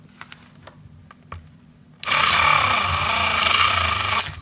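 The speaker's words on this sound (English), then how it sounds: "if I put it up against this block here, it doesn't stop it." Rewound 12-volt DC shifter motor from a 1958 Edsel, bench-tested while pushed against a block, starts after a few light clicks with a loud steady whirring whine that holds for about two seconds, then cuts off.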